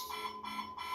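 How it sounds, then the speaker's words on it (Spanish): An alarm sounds in steady repeating pulses of a high electronic tone, three bursts in quick succession, fairly loud and continuous with no talk over it. "Esa es mi alarma"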